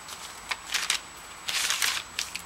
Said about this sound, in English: love the sound of paper and glass, the little bags